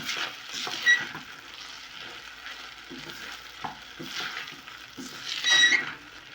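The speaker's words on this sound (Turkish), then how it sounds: "Pilavım kavruldu." Rice toasts in a pot for Turkish pilaf, giving a soft continuous sizzle while a spoon stirs and scrapes against the pot at a steady pace, with a few louder scrapes; no one speaks.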